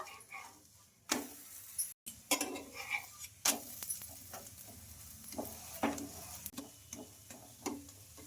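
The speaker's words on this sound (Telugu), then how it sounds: "ఇంకా అటు ఇటు తిప్పుకుంటూ బాగా రోటీని కాల్చుకోవాలి" A rumali roti roasts on a hot pan with a little oil, giving a faint, soft sizzle broken by scattered light scrapes and taps as it is flipped side to side.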